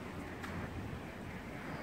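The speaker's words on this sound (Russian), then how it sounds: "Ветер. Это большая редкость здесь." Wind gusts through a snowstorm in Asheville, North Carolina, making a steady, fairly quiet broadband rush with no voices over it.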